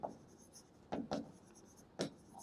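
A pen writing a definition during a lecture on sets, faint, short scratchy strokes in a few separate bursts against a quiet room.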